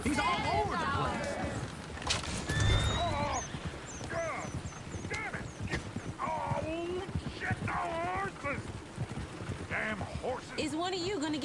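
Horse hooves clip-clop with occasional neighs and whinnies in a video game while people talk over the top throughout.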